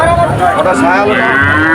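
Calves at the Athara Mile cattle market low loudly and close by, a couple of drawn-out moos with wavering pitch over a busy background of market noise.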